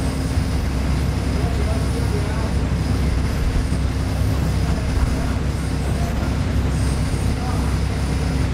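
A Feeder train runs on the line from Phra Chom Klao to Lat Krabang, giving a loud, steady rumble and rattle of wheels and carriages that persists throughout without a break.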